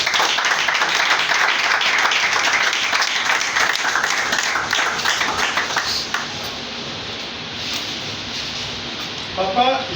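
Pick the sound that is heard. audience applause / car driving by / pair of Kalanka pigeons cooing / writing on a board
audience applause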